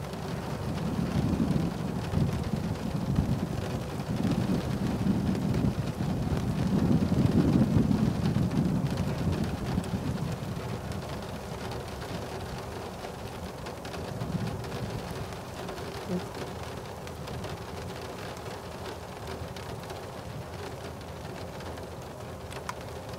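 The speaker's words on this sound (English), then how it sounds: "It's really cold and pouring rain right now" Heavy, pouring rain on a cold day rushes steadily. Low rolling rumbles swell in the first half and fade to a steady patter, with faint bird calls.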